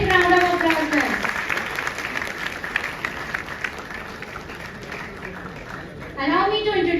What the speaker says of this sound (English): Please give them a big round of applause then